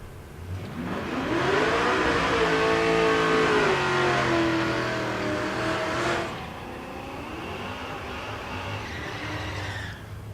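At a drag race at Tulsa Raceway Park, an A-body Mopar and a G8 rev hard and accelerate, engine notes climbing loudly in pitch, then cutting off abruptly before a second rising run trails away.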